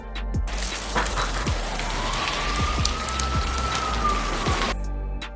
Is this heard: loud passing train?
no